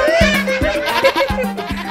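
Sheep or goats bleating at a farm house during a family visit, several short wavering calls close by over a background of children and adults talking.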